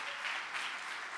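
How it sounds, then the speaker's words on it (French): An audience at the Prix Moustaki 2021 applauds performers, a brief, steady wash of clapping at moderate distance. "on peut les applaudir encore un petit peu"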